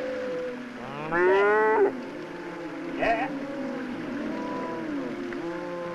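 A cow moos twice at a cattle spray race, a long drawn-out low call followed by a shorter one, over a steady background hum outdoors.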